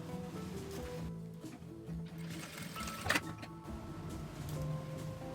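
A sewing machine runs steadily, stitching a straight seam along the fabric lining of a small flap-style cosmetic bag with ruffles, a continuous mechanical whir with a brief louder clatter partway through.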